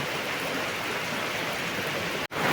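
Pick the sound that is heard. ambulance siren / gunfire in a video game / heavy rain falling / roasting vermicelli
heavy rain falling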